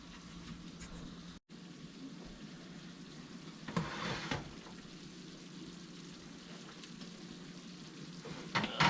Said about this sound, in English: That cheese and pepperoni is sizzling.